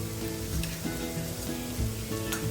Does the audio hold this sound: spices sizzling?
yes